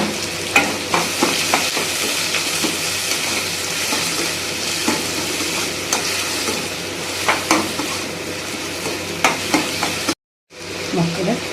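Mustard seeds sizzling and popping in hot frying oil for Guntur chicken, a steady close crackle with repeated sharp pops and occasional stirring clinks, cutting out briefly near the end before resuming.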